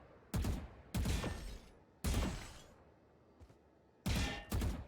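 Valorant gunfire comes in short bursts, a handful of sharp, loud cracks spaced about a second apart with decaying echoes and quiet gaps between.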